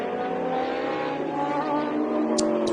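The ex-Chamberlain Synergy endurance race car at the Montjuic circuit passes with a sustained, loud, droning engine note that shifts slightly in pitch, with brief high squeals near the end.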